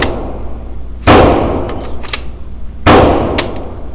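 Two sharp, loud shots from a POF USA Rogue pistol firing cheap 150 grain ammunition, spaced nearly two seconds apart, each followed by a brief metallic clatter of the action and ejected casing.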